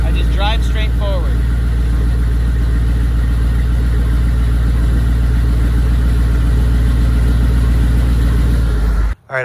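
Humvee engine runs steadily as the vehicle creeps forward under light brake pressure, a loud, continuous low rumble up close that cuts off abruptly near the end.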